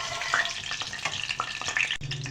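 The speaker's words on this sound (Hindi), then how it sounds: "राई और मेथी दाने को हम इसके अंदर अच्छे से फ्राई करेंगे।" Mustard seeds and fenugreek seeds fry in hot oil for a spicy brinjal curry, a close, steady sizzle with scattered crackles and pops.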